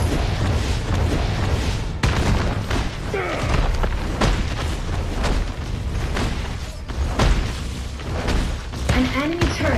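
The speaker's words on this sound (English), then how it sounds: "An enemy turret has been destroyed." Deep booms and heavy thuds from an enemy turret being destroyed in Marvel Super War, with the Thing as a tank hero in a busy battle, blasts recurring across a dense mix of game effects, music and an announcer voice.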